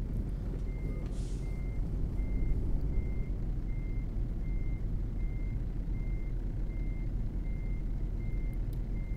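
Steady, evenly spaced truck reversing beeps repeat through the whole stretch in a driving game, as a tractor unit backs a small trailer, over a constant low diesel engine rumble.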